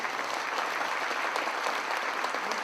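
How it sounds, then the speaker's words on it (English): Audience applause at a football presentation seminar, a steady, moderately distant wash of many hands clapping throughout. "Let's give an applause."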